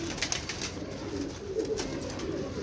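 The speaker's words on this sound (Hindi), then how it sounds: "ये वाला कबूतर पकड़े" Soft, low pigeon cooing repeats through the clip against a busy outdoor background, with no talking.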